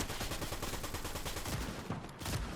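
Rapid, sustained Harbinger SMG fire in Fortnite Zero Build, a dense continuous stream of shots that briefly breaks off then resumes, loud and close, no talking.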